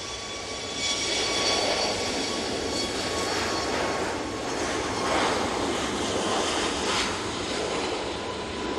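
A Ryanair Boeing 737 MAX 8 on its takeoff roll at Manchester Airport bound for Dublin, a loud, sustained jet engine roar with a thin whine on top, heard fairly close and without talk.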